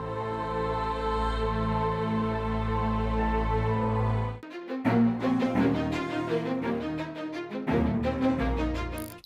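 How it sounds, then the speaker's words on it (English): AI-generated instrumental music for a mad doctor monster scene, made with ElevenLabs, opens with a sustained droning pad, then breaks into a busier rhythmic section of layered tones at steady volume, with no voices. "to give me a prompt that I can use for ElevenLabs in order to generate the music that would go well"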